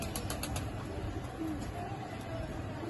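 Lahori pigeons coo softly at a pigeon keeper's loft, with a quick burst of wing flaps at the start and low cooing under steady background noise.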